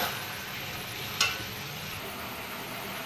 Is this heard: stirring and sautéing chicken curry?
yes